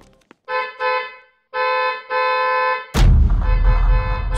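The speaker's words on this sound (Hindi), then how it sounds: "तभी अचानक गाड़ी का हॉर्न बजा" Car horn blasting in a tense, eerie scene: several separated honks, sharp and loud, followed by a heavy crashing boom that lingers as rumbling noise.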